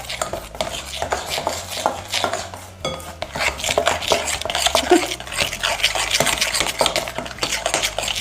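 A spoon stirs a blended beetroot mixture in a bowl, scraping and clinking against the sides in quick repeated strokes, close and fairly loud, with no talking.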